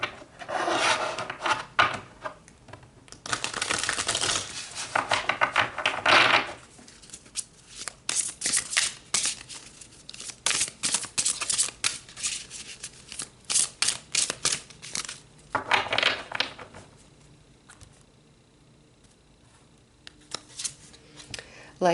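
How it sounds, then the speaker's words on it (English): Tarot cards being shuffled and pulled in a quiet room, bursts of papery riffling and sliding card strokes come in clusters with short gaps, close up and fairly soft. "let's pull some more cards"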